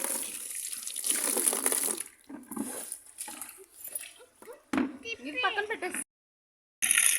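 Running tap water splashes steadily over a lunch bag being washed in a sink, the flow rising and falling as the bag is moved, with brief pauses and a voice talking in parts.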